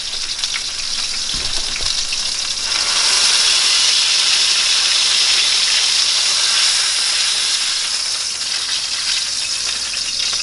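A burger topped with American cheese sizzles in a hot pan, a steady loud hiss of frying that carries on throughout.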